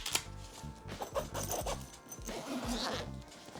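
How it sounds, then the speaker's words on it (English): A zipper is pulled in several quick rasping strokes, close and fairly quiet, with faint handling noise between pulls. "nice zipper."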